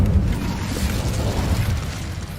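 A fire spell called Incendio is cast in the video game Hogwarts Legacy, giving a dense, rumbling whoosh of flame that roars continuously and loudly up close for a couple of seconds.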